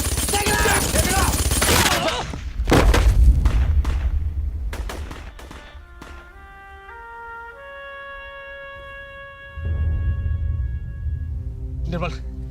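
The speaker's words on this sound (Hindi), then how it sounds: "साला बहुत गोली चला रहा है" Gunfire crackles through a battle scene in a Hindi war film set in 1947, with dense rapid bursts and booming shots up front giving way to a few scattered cracks under music and shouting voices.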